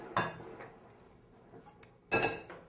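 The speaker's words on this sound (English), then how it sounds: "put together your flour, sugar, baking powder, and salt. And just kind of stir it around to mix it." Dry flour, sugar, baking powder and salt being stirred in a mixing bowl, heard as a few sparse clinks and scrapes of a utensil against the bowl, quiet with near-silent gaps between.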